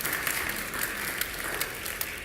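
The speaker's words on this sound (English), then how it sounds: "Yeah, I hear the clapping coming from that one." A church congregation claps at a worship service, with a dense, steady patter of many hands at close range and a few sharper claps standing out. Nobody speaks.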